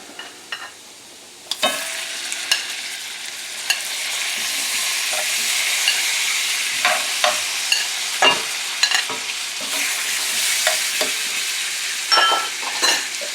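Lamb chops sizzle and fry in a pan with a steady hiss, broken by repeated close clinks and scrapes of stirring and handling that come through clearly over the frying.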